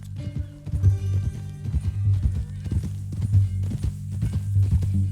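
Horse hooves clip-clopping in the video game Red Dead Redemption 2, a steady walking rhythm of close, distinct hoofbeats under a low background hum.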